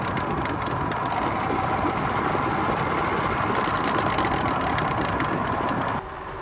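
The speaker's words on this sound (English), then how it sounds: "I am having an issue with this making some noise when I'm not under power." Philodo Forester e-bike gear assembly making a steady grinding whir while coasting without power, loud and continuous, mixed with rushing road and wind noise.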